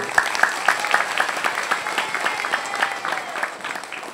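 Audience applause during a health talk in Surabaya, a scattered crowd clapping with sharp individual claps over a softer wash, moderately close, with a voice faintly present underneath.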